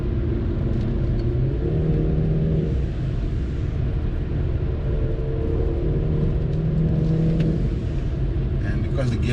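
A BMW 330i G20 drives through corners on an early-morning mountain road, its engine a steady low rumble with shifting tones as it pulls through bends, continuous and close under occasional talk.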